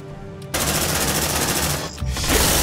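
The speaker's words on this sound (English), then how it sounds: "Deploying sentry gun!" A deployed sentry gun in the Aliens: Dark Descent video game fires a rapid, sustained automatic burst, loud and close. There is a brief break before the firing resumes.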